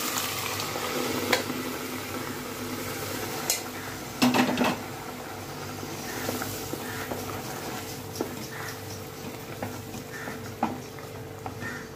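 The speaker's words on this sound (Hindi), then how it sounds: "दाल हो गया है, मसाला हो गया है, अब इसमें दाल डालेंगे" Chana dal goes into masala frying in a pan for dhaba-style chana dal, giving a steady sizzle with scattered clinks and scraping stirs, and a brief louder clatter and hiss as the lentils land partway through.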